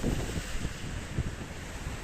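Sea waves washing against a shore near a pyramid-shaped structure in Karadeniz Ereğli, a steady broadband rush with wind buffeting the microphone, heard alone with no talk.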